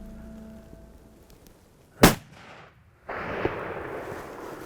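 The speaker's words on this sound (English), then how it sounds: "A perfect 350-yard shot." A single loud rifle shot fired at a bull from 350 yards outdoors, a sharp crack followed by a fading echo and then a rush of wind or handling noise.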